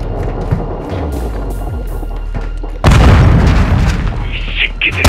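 A grenade detonates in the Dark Water video game with a sudden loud, deep boom that rolls into a long rumbling decay, preceded by scattered combat noise and voices talking.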